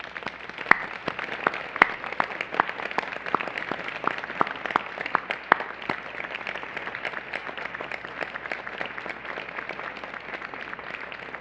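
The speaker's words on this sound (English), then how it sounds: "please join me in a round of applause for our audience" Scattered clapping from an audience at a university undergraduate honors convocation, sparse and uneven with distinct individual claps, fairly faint and thinning out over time.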